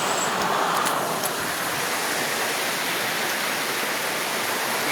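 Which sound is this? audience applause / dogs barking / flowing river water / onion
flowing river water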